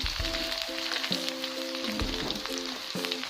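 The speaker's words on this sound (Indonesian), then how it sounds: "Kita goreng sampai mateng ya teman-teman, sampai kering." Salted fish sizzling in hot oil for a Sundanese meal, a steady crackling hiss with small pops, close and fairly loud, with faint background tones and no talking.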